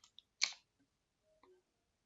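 Mouse clicks on a computer while working in Autodesk bridge-design software: a few quiet, sharp clicks spread over two seconds, with one louder click near the start and a soft one later, and no talking.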